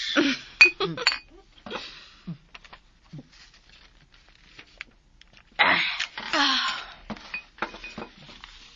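Wine glasses clink together in a toast, a few bright chinks near the start and again later, separated by quiet stretches with some faint movement and a cough-like sound.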